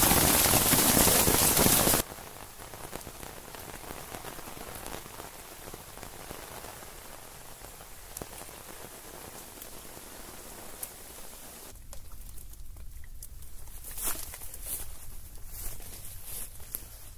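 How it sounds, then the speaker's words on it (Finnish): Hail patters on a tarp during a paddling trip at Inari lake in Finland, a dense, steady rattle of small impacts that continues throughout, loud at first and then slightly softer. "Joo, tuli heti kunnolla rakeita."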